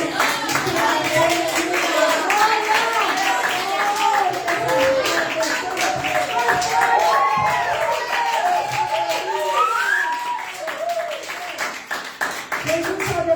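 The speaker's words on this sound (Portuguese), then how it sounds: "Aplaudam o Senhor," A church congregation claps hard through a lively worship service, crisp rapid hand claps rising over loud voices and singing, continuing steadily and thinning near the end.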